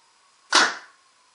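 A single shot from a PMR 2011 paintball marker with a tuned bolt, a sharp, airy pop that tails off quickly, close and loud against a faint steady hum.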